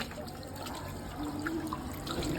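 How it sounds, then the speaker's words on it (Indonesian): Running tap water pours steadily while hands are being washed, a continuous trickling splash that swells slightly toward the end, with no talk. "Usahakan menggunakan air mengalir."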